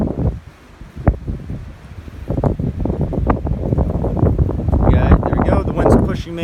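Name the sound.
wind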